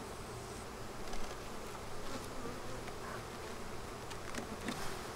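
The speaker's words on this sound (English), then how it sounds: "Now it sounds pretty busy." Honeybees buzz steadily inside an open, busy beehive, a dense continuous hum heard close and fairly quiet throughout, without any talk.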